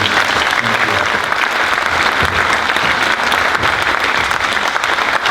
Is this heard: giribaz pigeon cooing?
no